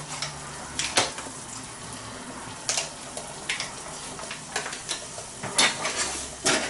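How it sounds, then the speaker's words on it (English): Butter being stirred into a fish risotto in a pan, a wet scraping and sizzling texture with repeated spoon strokes and clinks, fairly close, with no speech. "I'm now going to put in about 50 grams of butter."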